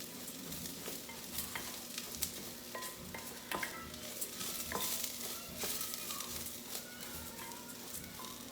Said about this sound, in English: So actually frying the rice, literally.